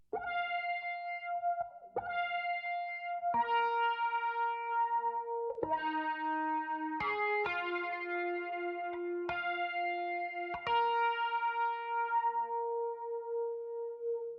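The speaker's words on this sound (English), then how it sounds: "the Ample Guitar Stratocaster, which is pretty much an electric guitar" Clean electric guitar notes from an Ample Guitar Stratocaster sample ring out one by one with effects, each plucked tone sustaining and decaying in a slow, spacious melodic line.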